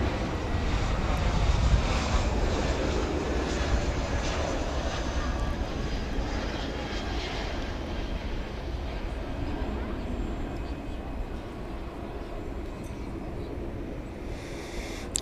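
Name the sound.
Airbus A321 from Chicago O'Hare landing at DFW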